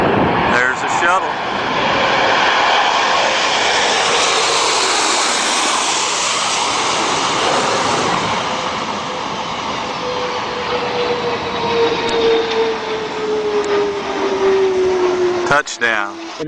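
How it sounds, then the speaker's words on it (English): A continuous, loud engine roar from a landing space shuttle, swelling early then easing into a sustained drone with a falling whine, with talking mixed in. "Take a look and take a listen to those jet engines."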